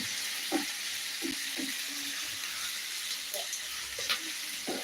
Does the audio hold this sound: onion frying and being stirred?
yes